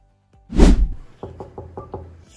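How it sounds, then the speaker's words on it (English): One heavy thump on an office door, then a run of five quick, evenly spaced knocks, close by and with no talk over them. "Let's just knock."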